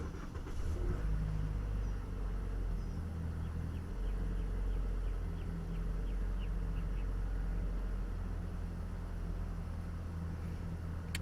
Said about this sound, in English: So let's go ahead and start the car, see what's happening.